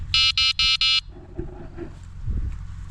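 Four evenly spaced electronic beeps sound from the horn of a low-cost 36V electric bicycle, short, loud and close. Soft handling clicks and low rumble follow.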